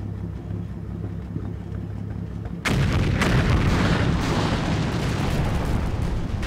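An M12 GMC self-propelled gun fires in the Combat Mission video game, one sudden heavy blast that cuts through a steady engine rumble and is followed by a long, loud rolling roar.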